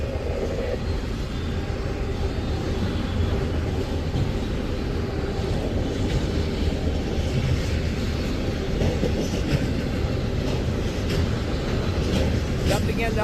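A freight train hauling auto rack cars passes close by in the Huron and Vermilion, Ohio area, a loud steady rumble with rhythmic wheel clatter and rattling that holds throughout.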